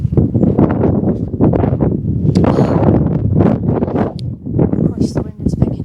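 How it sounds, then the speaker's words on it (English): Gusty wind buffets the microphone outdoors on a cold day near a hen coop, loud rumbling blasts rising and falling without pause, with a person talking at moments underneath. "Of course, the wind is picking up."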